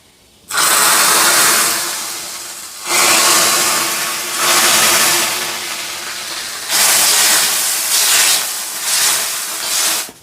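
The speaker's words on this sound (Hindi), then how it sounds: "पहले उसमें जो लाल मिर्चें हैं वो भूनी जाती हैं, ये देखिए भाई अच्छे ढंग से। तड़का देखो कुछ इस तरीके से लगता है भाई।" Red chillies hit hot oil for a tadka in a pan during village cooking in the mountains, bursting into loud, close sizzling in several surging waves with brief quieter dips, and no voices.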